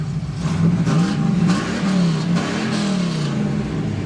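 A 1987 Pontiac Trans Am GTA with a numbers-matching 5.7 liter L98 V8 idles loudly and close by, its deep rumble rising and falling through several gentle revs.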